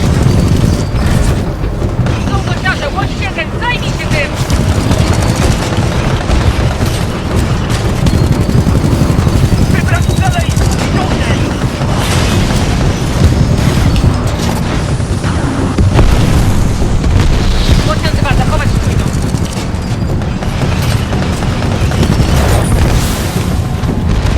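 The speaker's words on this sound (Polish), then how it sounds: "same efekty dźwiękowe, wybuchów, przelotów" Loud, continuous booming explosions and flyovers from the video game Titanfall 2 on PS4 Pro, with heavy rumbling and bursts layered densely throughout, with no speech.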